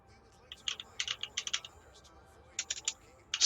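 Keys clatter on a computer keyboard in quick bursts of typing, a cluster of taps followed by a pause and then a few more strokes, close and crisp against a quiet background.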